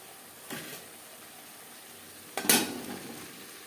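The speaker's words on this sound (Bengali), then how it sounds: "তিন চার মিনিট লো টু মিডিয়াম ফ্লেমে মশলা কষিয়ে নেবো" Spices being sautéed in a pan on a low-medium flame, a faint steady sizzle with two brief scraping stirs, the second louder and followed by a short rise in frying noise.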